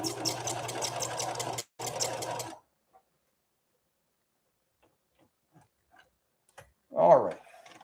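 A Singer 5808C sewing machine runs a straight stitch in a steady, continuous whir for about two and a half seconds with one short pause, then stops; a faint clack follows near the end.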